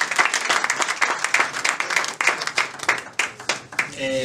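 Applause at a Full Gospel church gathering in Togo, a crowd clapping in quick irregular bursts for several seconds before a voice begins speaking at the very end.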